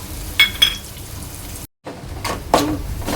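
Turmeric, asafoetida and Agri Koli masala are stirred in hot oil in a pan for a Koli-style prawn curry, giving a soft sizzle with a few scraping strokes, one brief gap, then more stirring.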